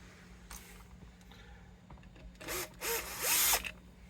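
Bosch power drill backs screws out of a 1974 Les Paul Custom guitar in three short loud whirring bursts late on, after quiet room tone with a faint steady hum.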